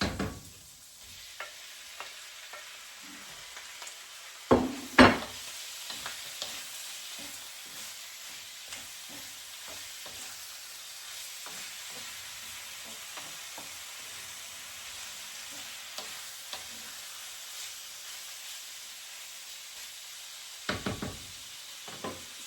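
Pieces of pork fry quietly in a pan for ginataang kalabasa, a soft low sizzle broken by occasional scraping stirs and a couple of sharper knocks against the pan.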